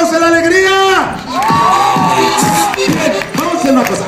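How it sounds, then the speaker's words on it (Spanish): A fairground crowd at a magician's show in Chapultepec cheers loudly, with children's high shouts and whoops rising and falling over several seconds, close and energetic. "A ver, el aplauso de la alegría."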